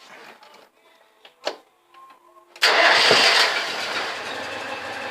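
Warm restart of an AK 400 engine: after quiet clicks and a short thump, it catches abruptly and roars into a steady, loud run that settles slightly toward idle.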